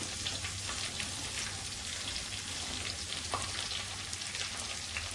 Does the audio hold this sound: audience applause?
no